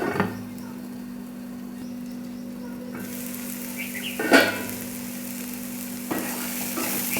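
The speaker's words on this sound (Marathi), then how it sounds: "मसाले पण आपले फ्राय झाले." Spices sizzle steadily in a pan for egg bhurji, with a continuous close frying hiss and a brief clatter of stirring partway through, and no voices.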